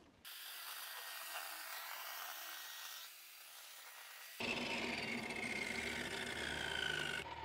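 Cutting a dado notch into HydroBlok tile backer board: a steady rasping, scraping cut close by, shifting to a harsher, louder grind partway through, with no speech.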